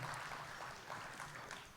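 Audience applause at a hotel grand opening event, a steady wash of clapping from a crowd lasting under two seconds, moderately quiet and continuous without talk.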